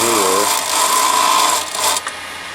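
A wood lathe spins while a detail gouge cuts into a small turned wooden box: a steady whirring scrape with a ringing tone, holding level before easing off and breaking up near the end.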